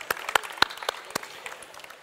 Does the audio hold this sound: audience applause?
yes